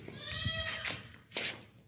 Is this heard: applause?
no